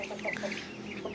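Year-old chickens cluck close by, a steady run of short, overlapping calls with no voices.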